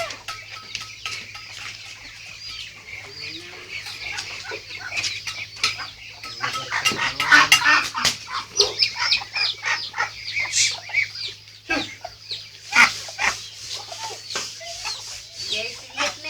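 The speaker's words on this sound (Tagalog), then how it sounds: "nandiyan na yung pato" Ducks on a farm, a busy run of clucking, quacking calls with some wing flapping, growing denser midway over a faint steady hum, with people speaking softly in the background.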